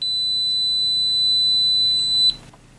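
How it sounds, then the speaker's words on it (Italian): A GVDA GD128 multimeter's continuity tester gives a steady, high electronic beep that holds for a little over two seconds, then cuts off abruptly, leaving faint background hiss. "anche il beep tra l'altro mi sembra un buon eh, segnale acustico"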